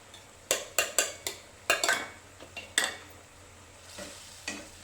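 Paneer butter masala cooking in a pan on the stove, with a utensil clinking and scraping against the pan in a quick run of taps followed by a few softer strokes over a faint sizzle.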